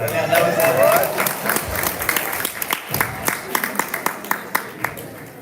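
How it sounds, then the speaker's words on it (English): Applause from a quiz competition audience starts fairly full with some crowd voices, then thins out into a handful of separate, sharp claps that fade away. "I think we need more of a round of applause for that."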